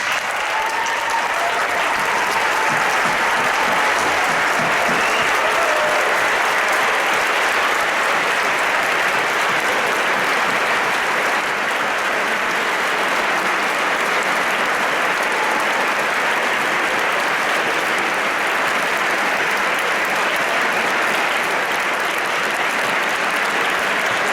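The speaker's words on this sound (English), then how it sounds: "So please join me in standing as we applaud them one last time." Sustained applause from a large audience at a closing ceremony fills the room steadily and loudly for the whole stretch, with no talking over it.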